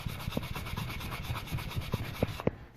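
Fine 800 grit abrasive rubs back and forth over wire jewelry, a soft continuous close-up scratching with a steady stroking rhythm and a few light taps.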